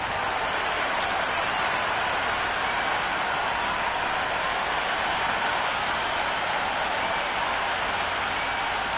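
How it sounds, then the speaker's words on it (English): A stadium crowd roaring and applauding in a PS5 IPL cricket game before play gets underway, a steady dense wash of cheering and clapping throughout, broad and unbroken. "We're about to get underway and already the crowd is up and about"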